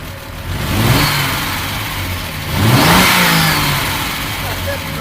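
A Triumph TR6 classic car engine, just back running after fuel injector repair, revs up twice from a rough idle, rising in pitch and loudness before settling, heard close with a person talking over it.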